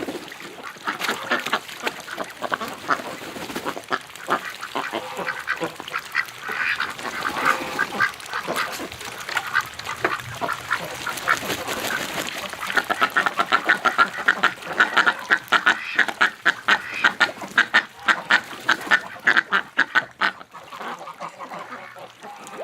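Ducks quack loudly and persistently nearby, a busy overlapping chorus that grows choppier and more rapid toward the end.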